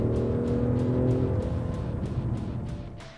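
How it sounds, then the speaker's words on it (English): A 2011 Ford Mustang with a 330-horsepower V6 accelerating hard, engine note climbing through a gear with a clear rising whine, close and loud, then easing off toward the end. "This thing really moves quite well when you get on the accelerator."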